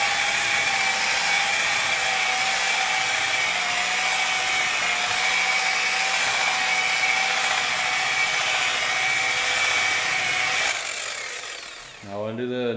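A machine polisher buffs compound on a car paint panel during colour sanding and polishing, a steady high-pitched whine holding for about eleven seconds before the motor winds down at the end.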